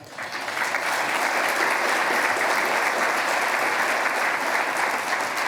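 An audience at a college scholarship celebration gives a steady round of applause, rising quickly and holding as an even, full wash of clapping for about five seconds.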